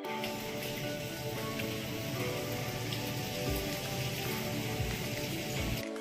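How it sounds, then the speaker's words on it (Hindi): Rain falls steadily near Joshimath, a dense, even patter on surfaces that stays unbroken and fairly soft throughout, with no voices. "बारिश रुके तो कहीं जाए भी"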